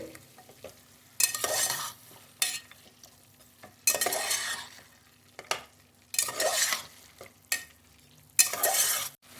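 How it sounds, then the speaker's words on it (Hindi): Half a kilo of mutton fries in a pan with onion and tomato, loud sizzling bursts repeating in waves as a spoon stirs it, with quieter pauses between, close by and without talk. "अब अच्छे तरीके से हम इसको फ्राई कर लेंगे"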